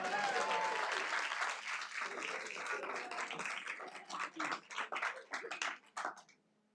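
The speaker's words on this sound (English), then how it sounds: "One more round of applause." Enthusiastic applause from a crowd that thins into scattered individual claps and then fades out.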